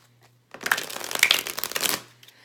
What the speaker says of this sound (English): And then you're going to shuffle those together.